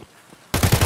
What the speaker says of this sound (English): Why didn't my gun stop shooting?